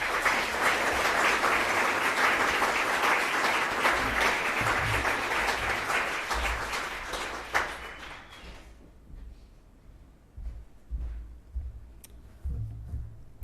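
An audience at an evening event applauds steadily as a speaker is welcomed to the stage, sustained dense clapping that fades out into a few scattered claps and quiet room noise.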